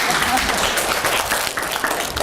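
Applause from a children's camp class audience, a steady wash of many hands clapping at close range with a voice briefly mixed in.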